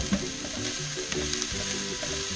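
Onions fry in a pan with a soft, steady sizzle, mixed with close clinks and scraping from stirring, all fairly quiet and with no talking.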